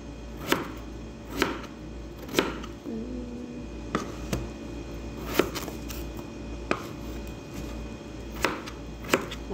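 A knife chops food on a board, close and crisp, with sharp single strikes landing every second or two in an uneven rhythm over a quiet background.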